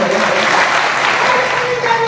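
A crowd at a Samajwadi Party and SBSP political meeting in Pihani applauds loudly to welcome a speaker, a dense, steady roar of clapping filling the whole stretch.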